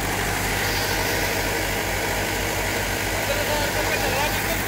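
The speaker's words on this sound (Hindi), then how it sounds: "सबसे पहले मैं दिखा दूँ ट्रैक्टर के आरपीएम" A tractor engine runs at high rpm powering a multi-crop thresher processing mustard in Haryana, a loud steady drone with constant vibration, under a voice.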